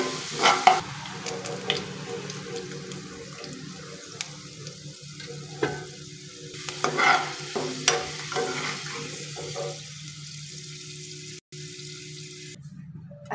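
Onions frying and being stirred in a pan for veg Hyderabadi biryani, a steady close sizzle with repeated scraping stirs and clinks running throughout, no voices.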